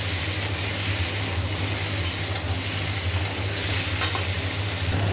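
Mixed vegetables sizzle steadily in a hot pan for a Bengali chorchori, a continuous close frying hiss with faint stirring scrapes and no talk.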